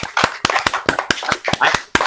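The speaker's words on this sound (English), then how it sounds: "If we could get a round of applause for Greg" A small group claps to welcome a new guest on a talk show, making sharp, close, distinct hand claps in an uneven rhythm for a couple of seconds with no talking.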